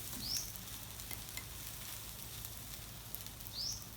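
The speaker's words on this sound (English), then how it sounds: "So now I'm just going to try to scrape this egg and turn it one and scoop the noodles on it" Egg and rice noodles sizzle softly in a pan, a quiet steady frying hiss with faint scraping and stirring, and two brief thin squeaks from the utensil.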